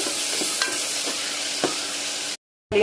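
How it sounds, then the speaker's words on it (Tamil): Chopped tomatoes sautéing in a pan for beef curry, a steady close sizzle broken by a few soft stirring scrapes, ending in a sudden short silence before the sizzle returns. "இது அதில் போட்டோம்னா தக்காளி நல்லா குழைய வதங்கட்டும்"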